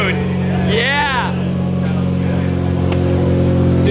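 A Dodge SRT4 with no catalytic converter and the pipe back on, one loud close rev that climbs and drops, then a steady raspy idle that keeps going to the end.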